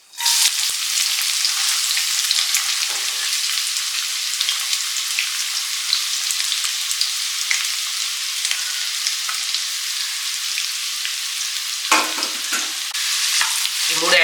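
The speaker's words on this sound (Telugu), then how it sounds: "ఇప్పుడు ఇవి వేసినాక 1 నిమిషం తర్వాత మనము ఆనియన్స్, వెల్లుల్లి, కొంచెం కరివేపాకు ఈ 3 యాడ్ చేయాలండి." Onions, garlic and curry leaves sizzle steadily in hot oil with spices for a squid masala curry, a dense, continuous crackle that stays close and loud throughout with no voices.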